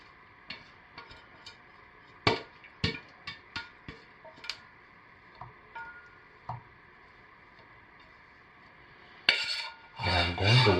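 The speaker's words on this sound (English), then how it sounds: "And I will scrape this out because I'm finished with it." Scattered scraping and tapping against a container as leftover cold process soap batter is cleared out, irregular close knocks and rasps, ending in a brief louder rustle.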